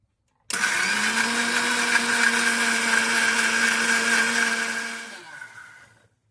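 Electric mixer grinder whirs steadily as it pulverises eggshells into fine powder for homemade organic plant fertiliser, a loud continuous motor drone starting abruptly and winding down near the end, with no talking.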